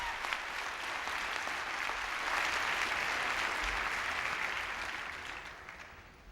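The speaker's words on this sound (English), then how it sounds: "give a warm round of applause to the Howard University Choir" Warm applause from an audience honoring the Howard University Choir, a steady wash of many hands clapping that swells in the middle and gradually tapers off toward the end.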